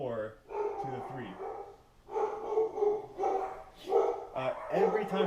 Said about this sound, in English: the dogs love to bark.